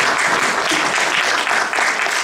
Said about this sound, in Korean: 그럼 박수 한번 쳐야 되는데.